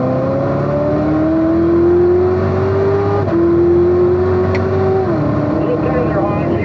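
A Corvette C7 ZR1 laps a Spring Mountain track in third gear. Its loud, close engine note climbs steadily, drops at a shift, climbs again and drops once more.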